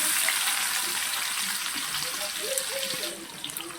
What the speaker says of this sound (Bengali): তেলটা গরম হয়ে গেলে আমি কিছুটা পেঁয়াজ ভেজে নেব